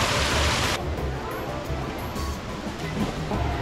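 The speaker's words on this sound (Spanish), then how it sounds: "Hay varios lugares aquí donde nace el agua." Water wells up from a natural spring at a bathing resort in Morelos, giving a steady, loud, broadband rush and gurgle that fills the whole stretch without pause.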